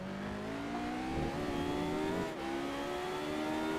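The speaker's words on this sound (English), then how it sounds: "Nice and smooth on the throttle out of that one." A Radical race car accelerating out of a corner at Road Atlanta during driving school, the engine note climbing steadily through the revs with a brief dip near a shift, heard from inside the car with no talking.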